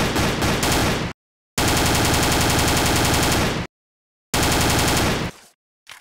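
Loud bursts of rapid automatic gunfire from the loudest weapon in a video game weapon test, three sustained volleys separated by short silences, with no talking.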